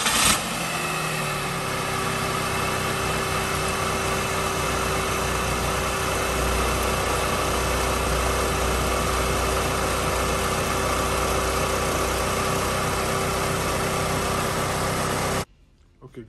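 A daily-driver car's engine cranks and catches right after a new serpentine belt and tensioner were fitted, then settles into a steady, even idle with a constant hum until it cuts off abruptly near the end.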